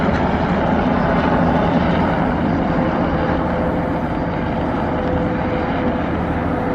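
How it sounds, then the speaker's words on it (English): A continuous low engine drone with a steady thrum, like a helicopter passing overhead, loud and unbroken for the whole stretch. "More of those helicopters seem to be looking for me every time I turn around."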